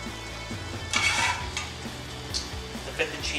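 Pasta sauce reheating over medium-low heat in a pan, soft sizzle beneath scraping stirs of a utensil against the pan, with a few sharper clinks at close range.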